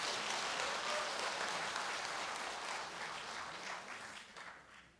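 An audience applauds at a political debate seminar, a dense wash of clapping that holds steady and then thins out toward the end, heard alone without talk.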